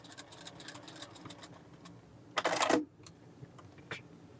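A sewing machine runs in a short burst of stitching through pieced quilt fabric, loud and close for about half a second, surrounded by quieter clicks and handling noises.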